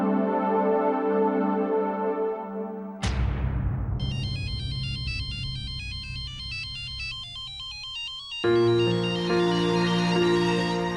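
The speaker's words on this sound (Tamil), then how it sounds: "எனக்கு தெரியும் ரத்னா, நீ ஃபோன் பண்ணுவேன்னு எனக்கு தெரியும்" Mobile phone ringtone for an incoming call in a Tamil TV serial, a loud melodic electronic tune that plays alone, switches to a bright chiming pattern, then returns to the fuller melody.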